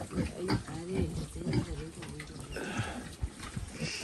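Pigs grunt and squeal close by at a rural village gathering in Puncak Jaya, under continuous talk from several people.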